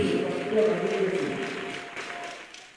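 A church congregation claps in a continuous burst that gradually fades, with a preacher's voice and a musical tone over it.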